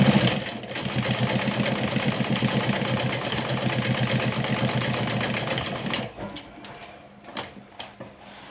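A home sewing machine stitches down a fabric strap in a fast, steady mechanical chatter for several seconds, then stops, leaving a few scattered handling clicks.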